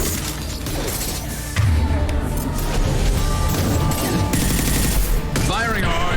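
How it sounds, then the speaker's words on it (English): Heavy, high-impact gunfire from the Mass Effect 2 video game, a dense run of loud, close shots and mechanical clatter over game music, with a brief voice underneath. "Firing a high-impact shot."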